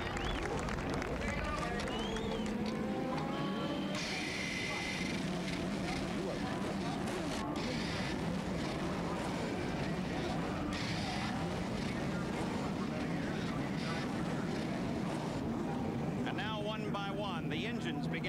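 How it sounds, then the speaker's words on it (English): Several IndyCar engines at the 1991 Cleveland Grand Prix fire up, roar and rev together over a crowd and commentary, a dense continuous mechanical drone building through the whole stretch. "The engines begin to fire."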